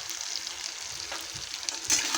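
Potol, potato, onion and tomato sizzle and fry in a pan as they are stirred with salt, a close, steady crackle with a few louder scrapes and no talking.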